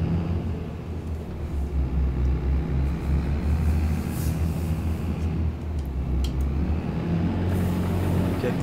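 A combine harvester's header runs with a continuous, fairly loud low mechanical rumble and drone that stays steady throughout.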